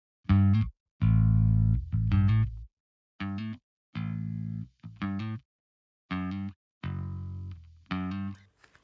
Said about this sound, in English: So the bass amp then, we take another EQ plugin with a low cut at 250.